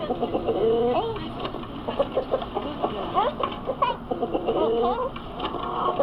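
Several chickens cluck and murmur nearby in a busy, continuous chatter with occasional louder squawks.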